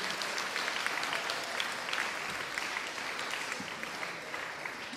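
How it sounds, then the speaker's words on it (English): A school house music event audience at Canford gives sustained applause, a dense, even crackle of many hands clapping throughout with no talk over it. "Should we give them a round of applause in their absence?"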